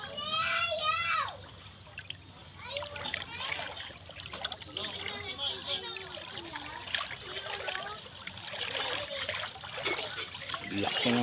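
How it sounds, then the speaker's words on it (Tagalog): Strong floodwater current rushes and churns steadily in the background after a typhoon, while a person talks over it, with a few splashy bursts. "Lakas ng agos ng tubig oh."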